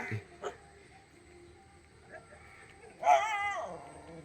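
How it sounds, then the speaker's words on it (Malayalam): A dog gives a few faint, short yips, then a longer whining cry near the end, against quiet surroundings. "എന്നെ എൻ്റെ നേരെ കഴിക്കാനായിട്ട് വരികയാണ് ഈ പട്ടി"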